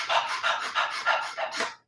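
Rapid burst breathing as a breathing exercise: six quick, forceful panting breaths in an even rhythm, close and breathy, with no talking.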